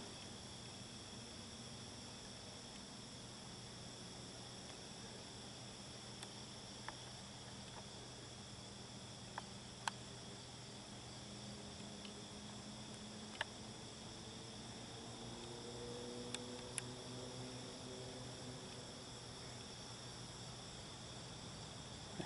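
Faint, steady high-pitched cricket trilling runs continuously on a sunflower plant, with a few soft clicks and no talking.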